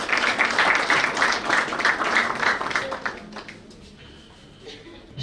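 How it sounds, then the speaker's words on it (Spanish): A crowd applauds loudly at an outdoor municipal anniversary ceremony in the district of Saylla, Peru, honoring students and their director; dense clapping lasts about three seconds, then thins and fades away. "el profesor Freddy Ayala Champi, el aplauso bien fuerte para ellos."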